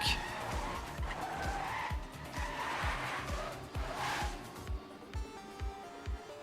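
A race car in a video game runs its lap with a buzzing, rising and falling engine and brief tyre squeals, fading down near the end while a commentator's voice sits low underneath.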